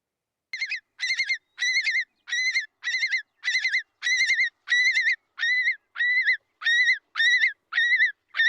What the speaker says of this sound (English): this is only going to be one curlew sending off the alarm call